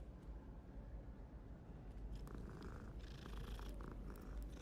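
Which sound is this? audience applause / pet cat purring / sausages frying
pet cat purring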